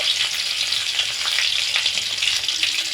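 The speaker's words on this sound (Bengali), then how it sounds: "কালো জিরে আর দিয়ে দিচ্ছি দুটো চেরা কাঁচা লঙ্কা ফোড়নটা কয়েক সেকেন্ড একটু ভেজে নিচ্ছি" Black cumin seeds and slit green chillies crackle in hot oil for a fish and brinjal curry, a loud, dense, continuous sizzle with faint stirring, and no talk.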